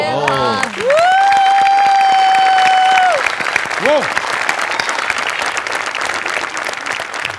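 A studio audience at a Marathi comedy show applauds loudly and continuously, with a sustained tonal sound and a short sliding tone over the clapping early on.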